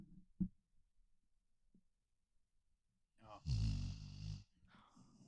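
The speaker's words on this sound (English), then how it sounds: "Lucy snoring. I love dogs snoring" A pet dog named Lucy snoring, a short loud throaty rumble with a rasping breath, following a few faint soft sounds in a quiet room.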